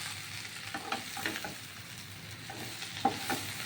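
Pumpkin leaves with turmeric and salt frying and being stirred in a pan, a soft steady sizzle with a few light scraping stirs and one sharper clink near the end, no talking.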